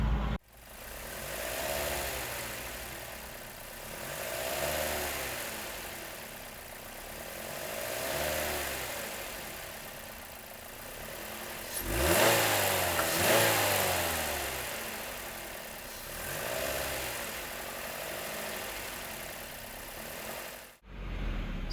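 A car engine, miked right at the intake, idles with a deep hum and revs repeatedly in slow waves, including one sharp, loud climb midway, before shutting off near the end.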